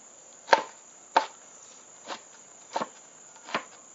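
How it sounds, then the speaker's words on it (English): A knife chops bell peppers on a cutting board with five separate, crisp knocks spaced about half a second apart, over a thin, steady high whine in the background. "don't look at me to teach you how to cut peppers"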